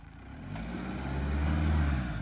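A car engine revs steadily while reversing off-road in back gear, a deep low drone swelling gradually louder over a couple of seconds under a rough broadband rumble, with no speech.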